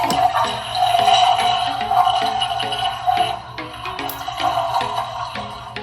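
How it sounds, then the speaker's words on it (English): A toy Montessori potty plays its electronic flushing sound, a bright, looping tone pattern with watery swishes, close and fairly loud, with no talk. "a little flushing sound. How cute is that?"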